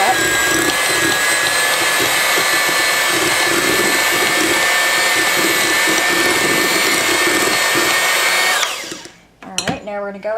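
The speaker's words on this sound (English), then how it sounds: "I'm going to take our mixer and go ahead and mix these two up." An electric hand mixer whirs steadily while beating softened cream cheese and butter together, a loud buzzing motor whine for about eight seconds before it switches off and a voice briefly speaks.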